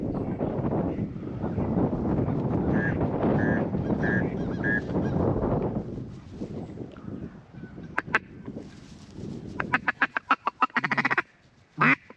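Wind rushes across the microphone, then several wood ducks quack and call in quick bursts nearby, a loose flurry of calls near the end, during a duck hunt in Hyde County.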